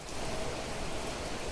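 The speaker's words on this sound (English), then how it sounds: "Seems like it's raining." Heavy rain in the video game Planet Crafter hisses in a dense, constant wash of noise, loud and unbroken, with no voices.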